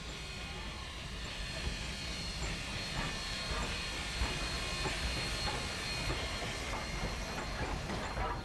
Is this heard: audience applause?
no